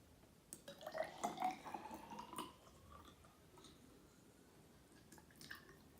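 Distilled water poured into a 25 millilitre graduated cylinder in a lab, a quiet close trickle and splash with a few drips and a glassy ring, fading into near silence.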